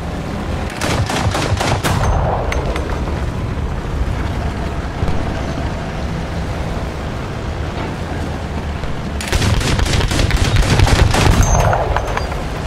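Bursts of War Thunder gunfire in a battle rating 1.3 tank and plane match: a dense volley of rapid shots early on, a steadier rumble in between, then another loud burst of rapid fire near the end.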